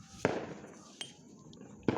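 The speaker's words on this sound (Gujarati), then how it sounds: "ફટાકડા બહુ ફૂટે છે" Three sharp firecracker bursts go off in a village at night, spaced irregularly, each a short crack with a brief tail, moderately distant over quiet background.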